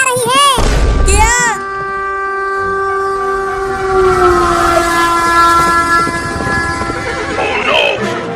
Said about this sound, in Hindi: ये नहीं दिख रहा कि आगे से ट्रेन भी आ रही है